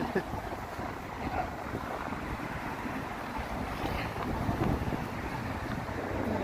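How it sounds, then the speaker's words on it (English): Strong, cold wind gusts across a microphone on a downtown Toronto street on a winter afternoon, a steady close-up roar and buffet with no talk. "That is a brutal wind"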